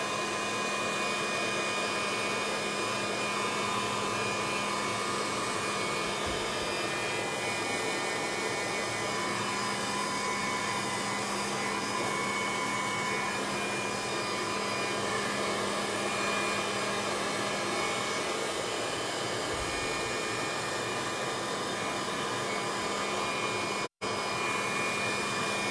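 Heat tool blowing to dry glue on a mixed media canvas, a loud, steady whooshing fan-and-heater roar held close for the whole stretch, briefly cutting out near the end, with no talk.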